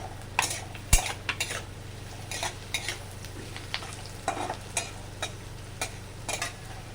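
Crushed garlic frying in a pan for Rajasthani kadhi, with a steady low sizzle under repeated sharp clinks and scrapes of a stirring spoon against the metal pan, close and moderately loud.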